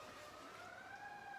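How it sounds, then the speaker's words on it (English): A police siren wails outside a home kitchen where beef stroganoff simmers, its rising and falling tone steady and fairly distant, carrying alone without talk. "there's a siren outside."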